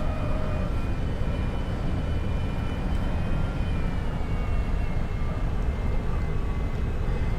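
Airliner engines whining at low power as the aircraft taxis toward the runway at JFK in X-Plane 11, a steady broadband rumble with faint tonal hum, constant and close throughout.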